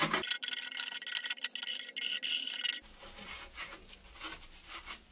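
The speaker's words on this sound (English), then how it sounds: "Smooth the edge with your file on the inside of the pipe as well." A hand file rasps in quick, loud back-and-forth strokes across the freshly cut edge of a plastic waste pipe, then gives way to softer, quieter scraping.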